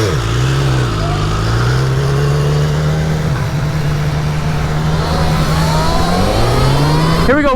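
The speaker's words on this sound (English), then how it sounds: "full throttle and hyper mode on the Talaria Komodo" A Talaria Komodo electric dirt bike runs flat out in hyper mode, its motor letting out a loud, close whine that climbs, holds steady, then dips and rises again near the end.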